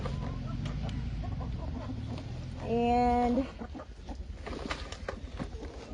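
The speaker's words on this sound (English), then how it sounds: "Okay, I'm going into the cage with the small batch of chickens." Chickens in a small caged batch cluck and squawk nearby, with one loud drawn-out call standing out mid-clip amid softer clucks and shuffling, and a brief word spoken.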